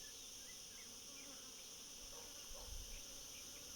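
Honey bees buzz in a dense, steady drone around an opened beehive in Malta, a faint continuous hum with no voices, and a brief soft thump near the end.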